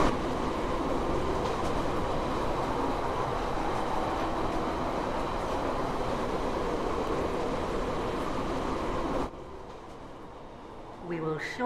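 Steady rumble of a passenger train running in the Stepford County Railway game, a Stepford Connect service to Rayleigh Bay, loud and continuous, dropping to a quieter interior hum near the end with a brief tonal sound.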